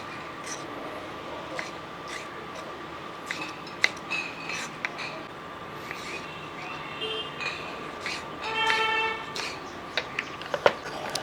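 Peeled ripe mango being chopped with a knife, giving scattered light cutting taps and clicks that rise into a brief flurry near the end, close but quiet against a faint steady background hum.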